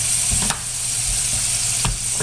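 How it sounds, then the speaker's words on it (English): A spoon stirs onions frying in a pan, giving a few distinct scraping strokes over a constant close sizzle and no speech. "So let's stir the onions"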